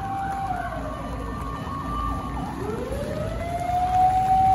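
A fire truck siren wails through a flooded street after heavy rain, its rising and falling tone sweeping steadily over traffic rumble at moderate distance.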